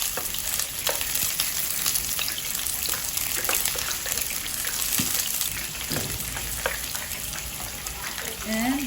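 Garlic and onion sizzle steadily in hot oil in a pan, with a dense continuous frying hiss, occasional utensil clinks and scrapes, and a voice talking over it.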